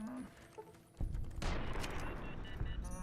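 Gunfire erupts in Fallout: New Vegas, a heavy burst of rapid shots kicking in after a quieter game soundscape with music, then continuing loud and dense to the end.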